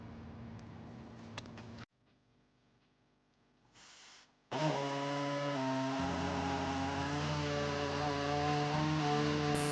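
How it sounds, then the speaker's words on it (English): An air saw cuts into the rear bumper of a 2020 Infiniti QX60, starting after a short pause and then running as a loud, steady, buzzing whine close by. "to cut that out, we're going to be using an air saw"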